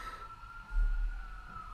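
A single distant emergency siren holds a steady, faint wail for under two seconds over low background rumble.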